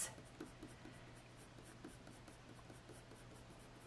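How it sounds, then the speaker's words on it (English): Coloured pencil strokes scratch softly back and forth across paper, a faint, steady rubbing rhythm close by with no talk. "I'm just sort of working backwards and forwards with the pencil strokes"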